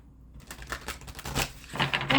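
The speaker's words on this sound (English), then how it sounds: "one more shuffle" Tarot cards are shuffled in quick, papery bursts of riffling and slapping that build slightly in loudness over a couple of seconds, close by and without speech.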